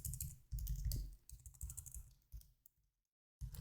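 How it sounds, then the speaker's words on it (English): Typing on a computer keyboard during website building: quick bursts of close, soft key clicks with short pauses, then a full second of silence before the typing starts again. "Having a tough time typing today."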